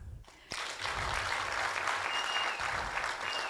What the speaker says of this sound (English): a very big clap to our moderators